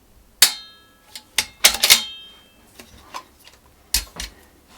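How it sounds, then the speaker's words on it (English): Several sharp metallic clicks in an irregular cluster from the safety catch of an Accuracy International AT-X bolt-action rifle chambered in 6.5 Creedmoor, close and crisp against a quiet room. "just to show you the safety catch, forward is fire, middle is safe with bolt operation, and rearward bolt locked and safe"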